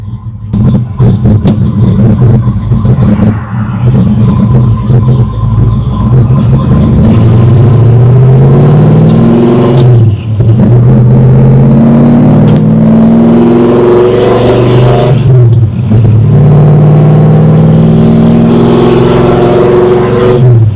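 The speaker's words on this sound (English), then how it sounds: "Car goes through all the gears smooth, drives straight down the road, no vibrations or anything like that." A 1972 Plymouth Road Runner with Air Grabber hood accelerates down a road and shifts smoothly up through the gears, its engine note climbing and dropping with each change, loud and close inside the car throughout.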